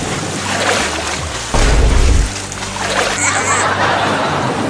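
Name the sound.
water splashing as someone swims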